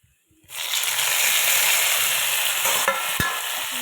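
Onion dropped into hot oil bursts into a loud, sudden sizzle after a brief quiet moment, then hisses steadily close by with a couple of sharp utensil knocks near the end.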